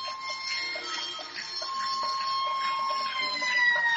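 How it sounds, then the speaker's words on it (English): The North Knox Warriors touchdown siren sounding at a high school homecoming football game, a steady high wailing tone held throughout over faint stadium crowd noise. "what you're hearing is the North Knox Warrior touchdown siren"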